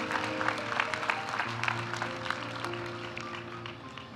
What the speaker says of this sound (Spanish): Aplaudimos ahora a los graduados de la maestría en gestión pública.